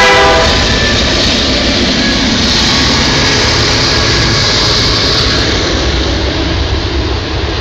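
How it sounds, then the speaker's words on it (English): A train passing in rural Indiana, loud and close: a sustained roar of rolling cars and wheels with horn-like tonal bands at the start, holding steady for the whole stretch. "Of the train going by."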